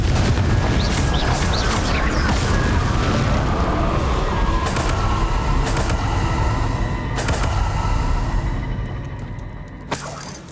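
Loud fiery Confringo spell explosion in Hogwarts Legacy on Nintendo Switch, a booming shattering blast that rumbles and crackles, then decays with a few sharp impacts near the end.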